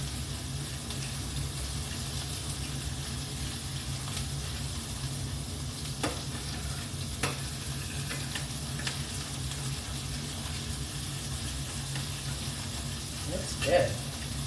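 Hot sauce frying in a pan, a steady, close sizzle with a few light clinks and stirring sounds, and a voice murmuring briefly near the end.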